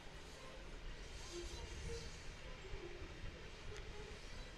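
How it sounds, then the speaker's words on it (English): A noisy train rumbles steadily past behind a squash court, a continuous low roar with faint rattling that persists throughout and masks other sounds nearby. "Quite the noisy train going on behind us"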